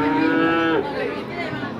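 A young bull calf at a cattle market in Tuban, East Java, lets out one loud, close moo that holds steady, then drops into a lower, rougher groan.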